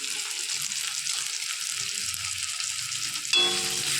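Clams fry with salt, turmeric and chili powder in a pan, giving a steady hiss of sizzling with soft scraping stirs, then a sudden louder burst and a brief metallic ring near the end.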